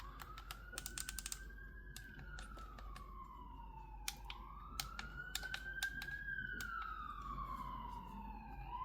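Sharp, crisp button clicks from a Scuf Envision Pro game controller come in quick bursts and single taps, close and fairly quiet, while a rising and falling siren wails faintly in the background.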